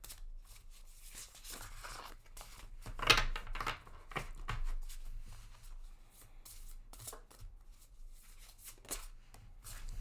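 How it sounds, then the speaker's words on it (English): A deck of reading cards shuffled quietly at close range, soft papery riffles and rubs with a couple of sharper snaps, no talking. "I'm just going to be quiet while I shuffle this deck"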